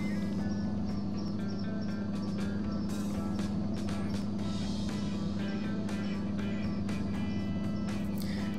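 Game-simulated heavy truck driving on the road in American Truck Simulator at night on a long coast-to-coast haul, a steady loud engine drone with rolling road noise running throughout, no talk.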